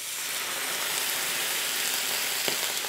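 White wine poured into a hot pan beside seared halibut, giving a steady, even sizzle and hiss that stays close and constant throughout, with no talk over it.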